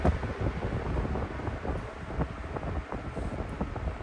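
An electric fan runs at middle speed on its 5-speed setting, a steady, fairly loud broadband whoosh of moving air close to the microphone, unbroken throughout with no talking.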